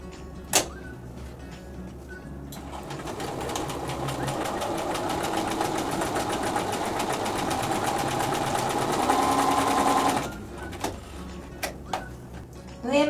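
A sewing machine stitches quilt block pieces in a close, steady rapid mechanical whir lasting about eight seconds, with a few clicks before and after as it starts and stops.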